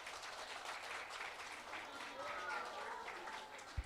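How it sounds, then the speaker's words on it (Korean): An audience at a motivational talk applauds in a faint, steady wash of clapping with some voices mixed in, ending with a brief thump. "박수 부탁드리겠습니다."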